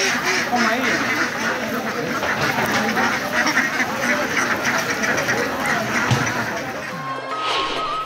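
Ducks quack repeatedly amid a dense crowd murmur at a temple festival where devotees bring ducks as offerings. Someone narrates over the continuous noise.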